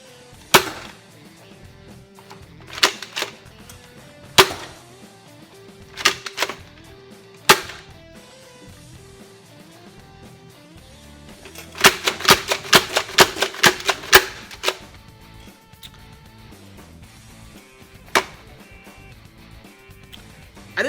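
Dart Zone Magnum Superdrum foam blaster slamfiring darts: scattered sharp snapping shots early on, then a rapid burst of about a dozen quick cracks near the middle, with a few single shots after, close and loud with no talking.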